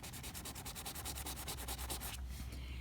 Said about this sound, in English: I'm also going to find a spot on the actual ring part here that I can scrub